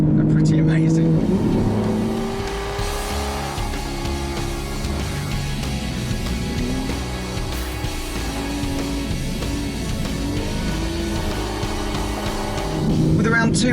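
An Aston Martin V12 Vantage S with its 565-horsepower V12 revs while driving, loud bursts at the start and end with a steady engine drone between, as someone talks over it.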